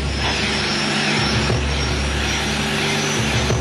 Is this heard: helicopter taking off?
yes